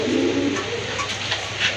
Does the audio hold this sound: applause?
no